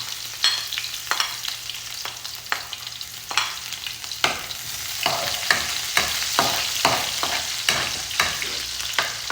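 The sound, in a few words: onion sautéing in a pan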